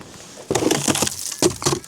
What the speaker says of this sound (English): if I just tap it, there we go.